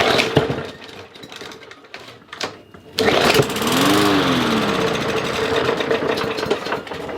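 Small carbureted engine on a lawn-mower-type machine, started with fuel poured into the spark plug hole: a few sputtering attempts, then it catches and runs steadily at a loud, rough idle.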